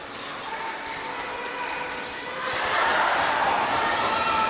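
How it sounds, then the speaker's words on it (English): Crowd at a high school boys' varsity hockey game cheering: a broad, echoing roar that swells into louder cheering partway through, with voices talking. "They all cheer when they take Craig down."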